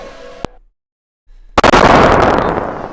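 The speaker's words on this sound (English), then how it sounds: "And some fireworks going off in the distance there." Fireworks go off at a motor race on a street circuit, a quiet murmur broken by a sharp pop, a short silence, then a loud burst of crackling bangs that rolls on and slowly thins out.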